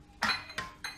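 Cake batter mixed in a bowl, heard as three quick metallic clinks of a utensil against the bowl, close and fairly quiet.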